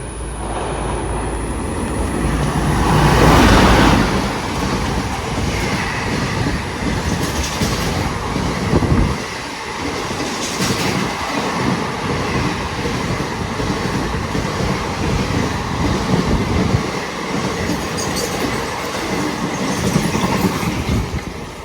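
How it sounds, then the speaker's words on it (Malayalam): The Eranad Express on the Mangalore–Thiruvananthapuram line rushes past near Bekal Fort at high speed, a loud sustained roar with rhythmic clickety-clack of wheels over rail joints and a gust of air as the coaches sweep by close. "നമ്മുടെ ഇന്നത്തെ ട്രെയിൻ സ്പോട്ടിംഗ് സ്റ്റാർട്ട് ചെയ്യുന്നത് ഏറനാട് എക്സ്പ്രസ്സിലാണ്"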